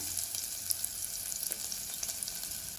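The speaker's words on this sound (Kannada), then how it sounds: "ಈರುಳ್ಳಿಯನ್ನು ಸ್ವಲ್ಪ ಫ್ರೈ ಮಾಡಿಕೊಳ್ಬೇಕು" Chopped onion fries in hot peanut oil, giving a steady bright sizzle with small crackles throughout, close up and alone.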